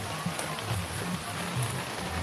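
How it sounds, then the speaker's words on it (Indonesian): Heavy rain pours steadily at an outdoor lakeside tourist spot, a dense broadband hiss filling the whole stretch with scattered splashes; a voice speaks faintly over it at moments. "Lihat ini tuh hujan gede banget, gede banget."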